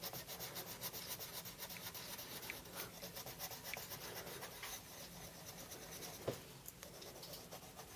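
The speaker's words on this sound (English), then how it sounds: "go on with quite a lot of pressure. Burnish all of those darker areas and just feather them out" Colored pencil rubs against paper under heavy pressure in steady back-and-forth scratchy strokes, soft and close, with no talking.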